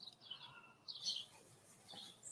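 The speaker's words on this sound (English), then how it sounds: "I'm just going to watch the birds in the tree in front of me as you can hear them." Small birds chirp in short bursts from a short distance, several high calls scattered over a faint outdoor background.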